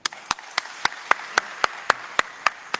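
Applause from an audience at a fireside chat, here a single steady clapper, about eleven sharp, evenly spaced claps close by over under three seconds.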